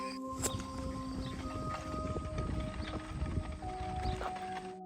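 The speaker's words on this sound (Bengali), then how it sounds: "ঘোড়াগুলো এভাবে গাড়ির সঙ্গে সেট করা হয় এবং ওদের যে প্রয়োজনীয় জিনিসগুলো বহন করার প্রয়োজন হয় সেগুলো এই ঘোড়ার গাড়ির মাধ্যমে এভাবে বহন করে থাকে" Horses hitched to a cart on a farm in an American village, their hooves putting out a faint, uneven clip-clop over a quiet outdoor background with a steady hum.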